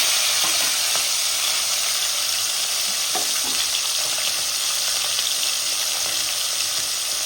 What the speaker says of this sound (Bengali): এখানে 8টা মাছ আছে, 4টে করে ভেজে নেবো